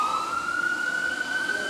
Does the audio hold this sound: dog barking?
no